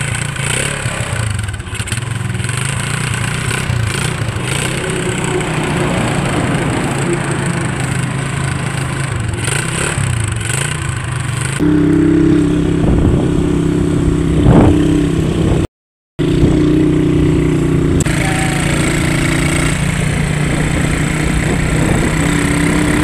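A small motorcycle engine runs steadily throughout while riding home, a constant mid-pitched drone that firms up and grows a little louder partway through, with a brief dropout near the end and no talk.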